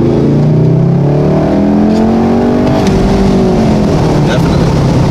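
Volkswagen Golf R fitted with a K&N cold air intake, accelerating in second gear from about 2,000 RPM with the window cracked, giving a steady loud engine drone with rising harmonics throughout.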